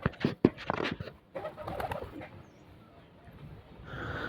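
Pigeons coo in low, soft bursts, several calls close together at first, then quieter murmuring over faint background noise.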